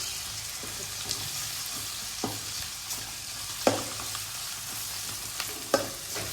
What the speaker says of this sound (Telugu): అల్లం పేస్ట్ వేసిన తర్వాత ఒక ఒక ఫైవ్ మినిట్స్ అది పచ్చి వాసన పోయే వరకు ఫ్రై చేసుకోవాలన్నమాట